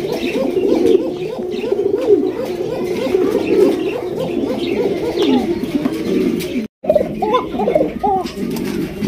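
Pigeons coo steadily in a rhythmic, overlapping chorus, close and fairly loud, with a few faint chirps mixed in and a brief dropout near the end; these are domestic and imported breeds kept in a breeding loft.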